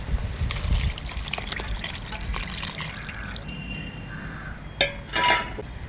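Curry liquid for a dried-fish curry pours and trickles into a pan with light clinks of metal, ending with a couple of brief splashy bursts.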